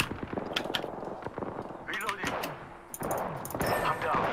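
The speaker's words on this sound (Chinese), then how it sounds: "这个散弹，我脸贴脸打三枪，他都没倒" Rapid bursts of gunfire in Apex Legends, including a shotgun fired at point-blank range, loud close shots clustering in quick sequence against a busy game background with a voice briefly audible.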